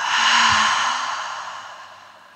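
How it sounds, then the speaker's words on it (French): A long, steady exhale during yoga breathing practice, a soft breathy rush close to the listener that swells early and slowly fades over two seconds, with no talking. "Dernière longue inspiration. Et expire."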